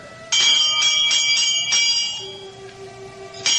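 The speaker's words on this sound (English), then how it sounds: "I reach out and pull the bell." A bright pull-cord door bell rings in several quick strikes, then its tone hangs and fades, with one more strike at the end.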